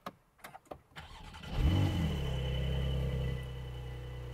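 A Porsche 911 Carrera S engine cranks and catches after a few faint clicks, flaring up loudly then settling into a steady, deep idle close by.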